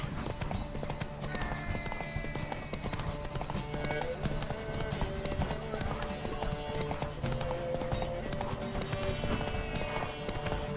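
Steady clip-clop of a horse's hooves trotting continuously in The Witcher 3: Wild Hunt, over a dense, busy backdrop of game sound effects and music.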